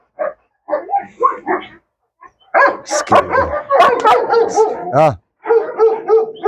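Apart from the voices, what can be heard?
dog barking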